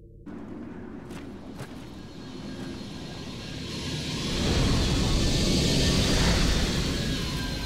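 Aircraft engine in the video game Vanquish, a jet-like roar that swells steadily as the craft comes in to land, growing loud and sustained after a few faint clanks at the start.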